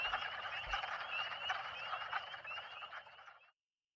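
Wood frogs croak at a vernal pool, a dense chorus of rapid, duck-like clucking calls overlapping continuously before stopping abruptly, moderately near and alone.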